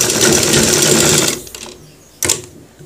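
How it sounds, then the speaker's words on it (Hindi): A sewing machine stitches a trouser cross pocket, whirring loud and steady up close for over a second, stopping, then giving one more short burst of stitching. "इस तरीके से मोड़ मोड़ के इस तरीके से आप इसको सिलाई कीजिए"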